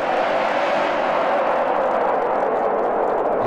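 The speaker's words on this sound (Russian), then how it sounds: "Пиздец, истребители летают какие-то." Fighter jets roaring overhead in the Puppet Combo horror video game Samhain: a loud, dense, steady rushing roar that fills the whole stretch without easing, with no voices over it.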